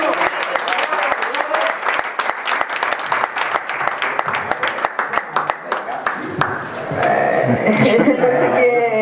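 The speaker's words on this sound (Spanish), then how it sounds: "Yo creo que se merece un aplauso." An audience at a school gathering breaks into brisk applause, many hands clapping in a close, dense patter that thins toward the end as murmuring voices and light laughter take over.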